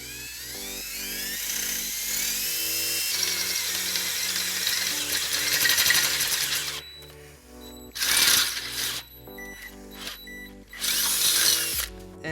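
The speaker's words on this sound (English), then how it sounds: "Now we're going to use a 3/8 drill bit to drill that out." A power drill with a 3/8 bit bores holes through a steel base plate during a 2015 Fiat 500 Pop/Lounge baseplate install, whining loud and steady for about seven seconds, then two shorter separate bursts after a pause.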